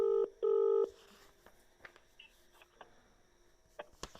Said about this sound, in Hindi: मैं आपके सामने साहेब को फ़ोन लगा रहा हूँ।